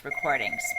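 A mobile phone rings with a short electronic ringtone, a steady high tone over rising chirps, heard up close beneath a brief spoken word.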